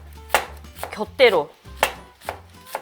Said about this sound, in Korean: 이제 다음에는 양파 자를게요.